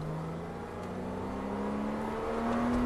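A Porsche accelerating on a race track, its engine note rising steadily as it builds speed, heard from inside the car as a loud continuous drone.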